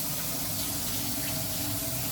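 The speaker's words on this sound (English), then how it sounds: "I'm just going to wash my hands." Kitchen tap running steadily into a sink while hands are washed, a dense, continuous close splash with no pauses.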